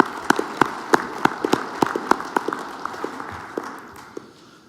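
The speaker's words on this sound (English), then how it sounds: "Give yourselves a big round of applause." Applause from a crowd, scattered claps at first, then a steady patter that gradually thins and fades. No talking.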